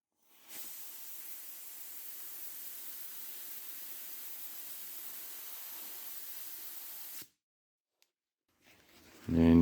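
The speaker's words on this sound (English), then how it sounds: "I'm going to blow some compressed air through it." Compressed air blown through a car air conditioning hose line with a rag over the far end, a steady close hiss lasting several seconds, then cutting off sharply.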